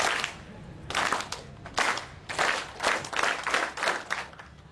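A live audience at a Kenduri Cinta gathering claps in unison on cue, giving a series of short, loud group bursts of clapping with brief pauses between them. No one speaks over it.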